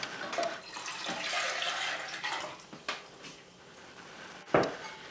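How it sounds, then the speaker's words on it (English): Water pours from a tap into a cooking pot in a home kitchen, a soft, uneven splashing and trickling with a few clunks of the pot near the end, fairly quiet and without talk. "I already have about 1 quart of water in here, and I'm just going to add about another quart."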